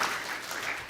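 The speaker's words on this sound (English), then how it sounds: "Everybody give all the fathers a round of applause that are here today." Brief applause from a church congregation for the fathers present on Father's Day, a soft continuous patter of many hands for about a second.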